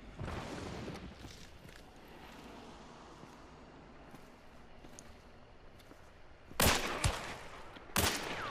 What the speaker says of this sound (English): Looks like a shotgun, but I'm not entirely sure.